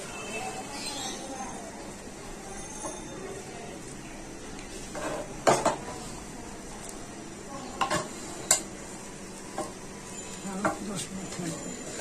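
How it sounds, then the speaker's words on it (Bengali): Meat khichuri gets stirred in a pot on a slow flame, with intermittent scraping and clanking of a spoon against the pot over a soft simmer while someone talks. "তো খিচুড়ি গোস্তটা একটু নেড়ে ওপর নিচ করে দিচ্ছি।"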